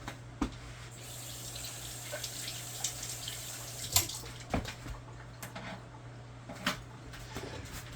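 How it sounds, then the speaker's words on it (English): A measuring spoon rinsed under a running kitchen tap, a faint steady stream of water with a low hum underneath and a few soft clinks and splashes scattered through. "Now, rinsing my spoon."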